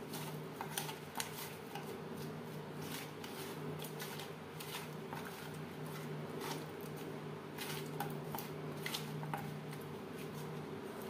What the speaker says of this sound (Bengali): লবণ হলুদ মাছে বেশ ভালো করে মেখে নিয়েছি